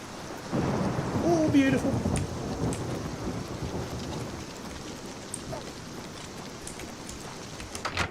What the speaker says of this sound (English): having the rains come down and the thunder and the lightning, I love that shit.